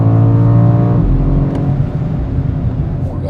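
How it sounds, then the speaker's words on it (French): A BMW M5 G90 in M1 mode pulls hard, its engine note loud and close at first before shifting down into a rougher, lower roar as the acceleration carries on. "Je vais quand même vous faire une petite accélération, je vais me mettre en mode M1."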